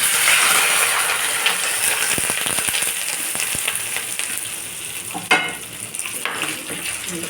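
Chopped onion and curry leaves sizzle in hot oil for a tamarind and peanut chutney, a steady frying hiss broken by sharp clinks and scrapes of stirring.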